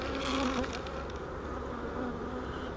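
Honey bees swarm around unopened queen cells in a hive, their buzzing a dense, steady drone close by that swells slightly at the start and holds without pause, with no voices.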